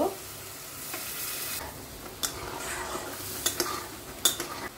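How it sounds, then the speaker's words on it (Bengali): Palak paneer of spinach and paneer sizzles and is stirred in a hot pan as milk is added, a steady frying hiss with a few sharp clinks of the spoon against the pan, and no talking. "আমি জল দেব না, আমি পালং পনিরে দুধ ইউজ করি। এখানে শুদ্ধ দুধ আছে, এই দুধটা দিয়ে দেব।"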